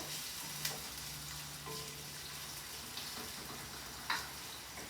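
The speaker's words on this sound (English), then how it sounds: "Now I'm putting the onion in, nice and hot oil." Onion sizzling and frying in hot oil in a pan, a steady bubbling hiss with a few sharper spits and stirring clatters, close and without talk.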